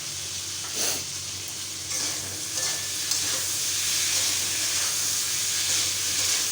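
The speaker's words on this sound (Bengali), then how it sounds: "দিয়ে আমি আরও কিছুক্ষণ আলুটা ভাজতে থাকবো" Potatoes fry in a pan with salt, a steady hissing sizzle broken by a few louder stirring scrapes and bursts of steam, close and even in level throughout.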